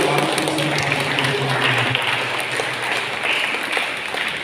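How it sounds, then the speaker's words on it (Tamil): A crowd at a church feast applauds, a steady continuous patter of many hands clapping at moderate distance, with a faint low tone beneath. "அவங்களுக்கு கைத்தட்டி பாராட்டு"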